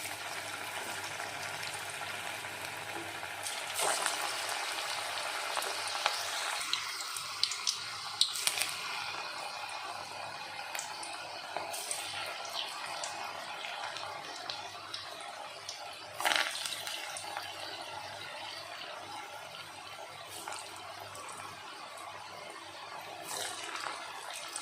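Small balls of jackfruit seed pakoda batter dropped into hot oil, giving a continuous soft bubbling sizzle with occasional sharper crackles and splashes as each piece goes in.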